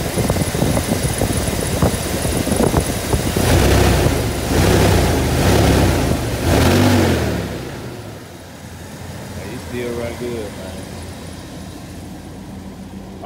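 A 1999 Chevrolet Tahoe, which had sat unused for eight months, runs with a steady engine drone and a few louder revving surges, then settles to a quieter, even idle.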